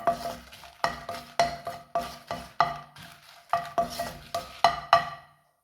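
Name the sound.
dried red chillies frying in coconut oil in a pan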